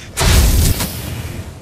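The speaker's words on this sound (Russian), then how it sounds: "Вот для чего нужно иметь огнемет. Просто два выстрела и все трупы." A loud burst from a flamethrower in the zombie survival video game Mist Survival, one heavy whooshing blast lasting about half a second followed by a lingering, fading roar.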